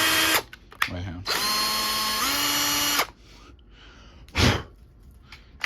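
Power drill boring into a wooden dowel for a homemade Valorant knife, loud steady whine for nearly two seconds after a short burst, then stopping, followed by quieter handling noises and a brief thump.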